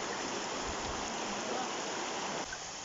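Kabigan Falls in Ilocos Norte pours in a steady rushing roar, a continuous broadband wash of falling water heard at moderate distance, fairly quiet and unbroken, with no talking.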